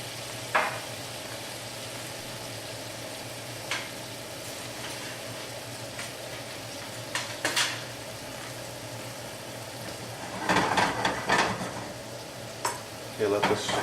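Brandy and orange juice simmering and reducing in a pan for cherries jubilee, a steady soft sizzle with occasional stirring scrapes and brief clatters, louder bursts near the end.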